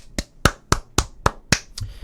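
Seven sharp hand claps in a steady, fairly quick rhythm, close and loud, with no talking.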